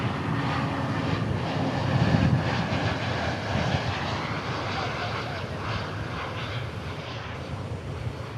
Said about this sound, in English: Next arrival, Frontier, Trixie the Fox, an A320 Neo